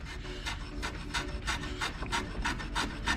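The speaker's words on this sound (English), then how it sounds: "chamfering the legs" A hand rasp or file works along the edge of a wooden bar stool leg, chamfering it in steady back-and-forth strokes, about ten close rasping passes, up front and with no talk.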